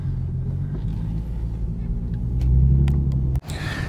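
An Infiniti Q50 launches hard, its engine rumbling low and building into a louder rev before cutting off sharply, heard from inside the car with a voice talking.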